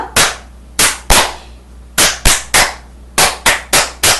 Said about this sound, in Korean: 계단 박수 준비! 그럼 이제 시작하면 이런 식으로